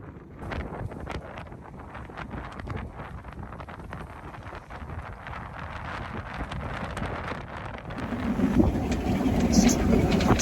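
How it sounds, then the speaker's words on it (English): Strong wind buffets the microphone aboard a sailboat off the Isle of Man's west side, wind on the beam, a steady roaring rush that swells louder in the last few seconds, with water and hull noise underneath. "The wind's a lot stronger on the west side now."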